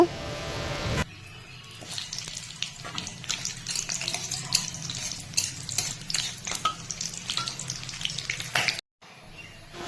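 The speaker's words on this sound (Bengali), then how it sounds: "কড়াইয়ে সরষার তেল দিয়ে সিদ্ধর জন্য লঙ্কা ভেজে নেব" Green chillies fry in hot mustard oil in a wok, a close, crackling sizzle with frequent sharp clinks and scrapes of stirring that runs for about eight seconds before cutting off.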